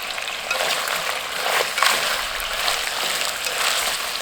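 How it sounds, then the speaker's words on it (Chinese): Dried chillies and Sichuan peppercorns with spices stir-fried in oil for a braised beef noodle dish, a steady broad crackling sizzle with faint scraping, continuous and close throughout. "加入干海椒和花椒"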